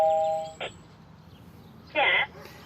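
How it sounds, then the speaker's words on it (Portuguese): A doorbell at an apartment building on a residential street gives two short electronic rings, a brief one then a longer one, over quiet outdoor background with faint birdsong. "eu toquei a campainha de um dos prédios da rua"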